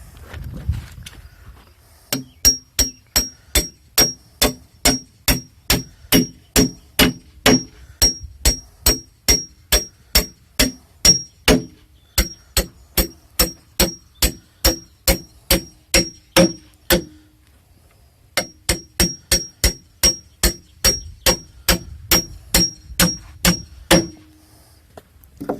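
A hammer strikes steel T plates during a barn raising, dozens of sharp ringing metallic blows in a steady, rapid rhythm, loud and close, with two short pauses between runs and no talk.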